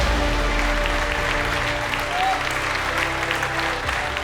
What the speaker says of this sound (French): Un tonnerre d'applaudissements à Michel Hommel, qui est avec nous.